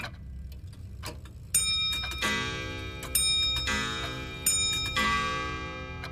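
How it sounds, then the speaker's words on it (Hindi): A clock strikes three times, each ringing chime sustaining and fading slowly over a soft ticking in a quiet room, with no voices. "तभी घड़ी ने 3 बार घंटा बजाया"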